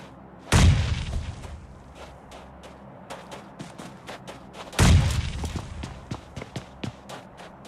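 Grenades explode in a shooter video game: two heavy booms a few seconds apart, each followed by scattered sharp gunshots and thumps, loud and close.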